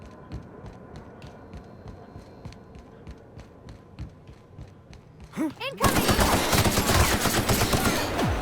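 An electric gun fires repeatedly in the video game The Outer Worlds, giving rhythmic pulsing zaps under a throbbing hum, then a louder crackling barrage near the end, with a voice speaking in between.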